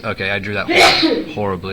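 One sharp sneeze bursts out in a lecture hall, loud and close, with someone talking just before and after it.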